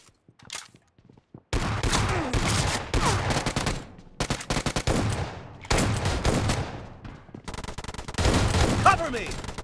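Gunfire in a team-based shooter video game, with bursts of rapid automatic fire and fusillades coming in several loud, close clusters separated by brief pauses, with announcer-style game voices mixed in.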